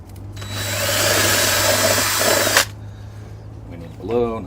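A power drill whirs loudly and steadily for about two seconds as it bores into a soft gourd, stopping abruptly, followed by a short spoken remark.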